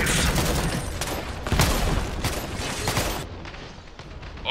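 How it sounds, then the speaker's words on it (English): Gunfire in the real-time strategy game Iron Harvest, during a 2 vs 2 multiplayer battle between Saxony and Usonia: a rapid clatter of close shots and small blasts that tapers off toward the end, with no talking. "Taking enemy fire."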